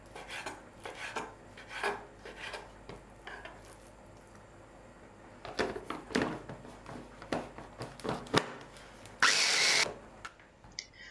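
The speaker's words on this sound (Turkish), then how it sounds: "600 gram tavuk göğsünü öncesinde şöyle küçük küçük doğrayıp mutfak robotunun içerisinde kıyma haline getiriyorum" Chicken breast, cut into small pieces beforehand, minced in a kitchen food processor; a loud whirring motor runs in short bursts with clattering and scraping, ending in one steady high-pitched whine.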